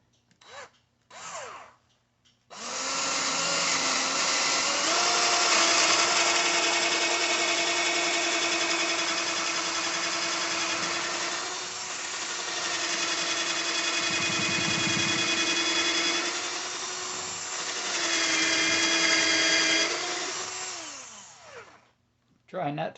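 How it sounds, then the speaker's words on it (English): A handheld power drill bores a hole into the bottom of a homemade American flag light post, running loud and steady with a whining motor for long stretches, easing briefly and then driving on again. "I'm going to drill the hole now on the bottom."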